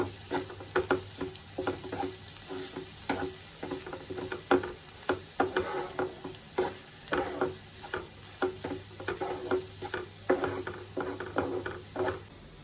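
A spoon stirs egg curry with spices in a pan, giving repeated scraping and clinking strokes in an irregular rhythm over a faint, steady sizzle, close by and moderately quiet with no talking.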